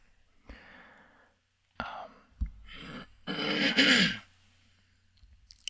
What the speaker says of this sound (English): Of course, I have to clear my throat